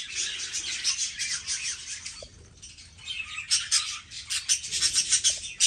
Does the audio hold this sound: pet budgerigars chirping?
yes